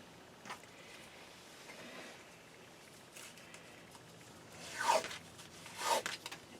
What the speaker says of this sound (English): Now I'm going to get some tape ready.